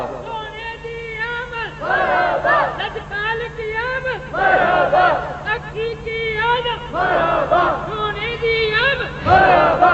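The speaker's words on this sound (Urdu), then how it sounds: "اچھا نعرے تے سارے بڑے پیارے نے" A crowd at an Islamic religious gathering chants slogans in loud, rhythmic bursts, alternating call-and-response style with a lead voice, with a steady hum underneath.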